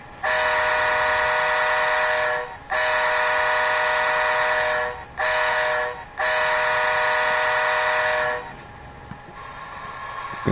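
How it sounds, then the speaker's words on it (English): Steam-style whistle from a DCC sound decoder fitted to an upgraded Athearn Blue Box model locomotive, sounding in four loud sustained blasts of varying length, separated by short gaps, with no speech. "You're going to get your whistles."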